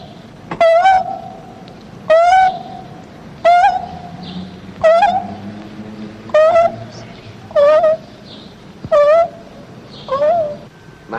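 A human voice imitates the call of a dove, repeating a rising-and-falling cooing phrase eight times at an even pace of roughly one every one and a half seconds, loud and close.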